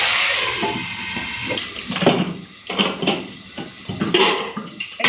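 Metallic clatter of a lid set onto a cooking pot, several clanks and scrapes over a hiss of cooking, close and moderately loud.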